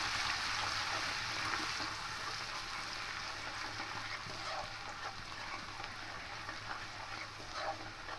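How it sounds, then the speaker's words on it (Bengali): Crushed garlic frying in hot oil gives off a steady, dense sizzle that holds evenly at close range for the whole stretch, with no voices. "রসুন থেঁতোটা দিয়ে দেবো দিয়ে তেলের সঙ্গে একটু ভেজে নেবো"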